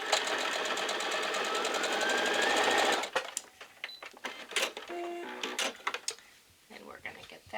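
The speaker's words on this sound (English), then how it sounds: "So I'm going to sew that together real quick here" A sewing machine stitching quilt block pieces together runs loud and steady up close for about three seconds and then stops, leaving scattered clicks and fabric handling with a voice talking.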